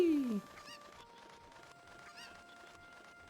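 Cucco chickens in The Legend of Zelda: Ocarina of Time give a few short, harmonic squawking clucks, the loudest at the start, over steady in-game background music.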